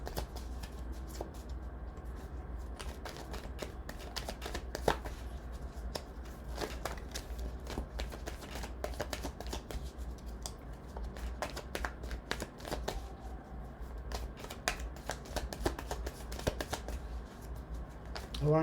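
Playing cards shuffled by hand in a steady run of crisp riffles and flicks, close and fairly quiet, continuing throughout with short sharp bursts, under soft background noise.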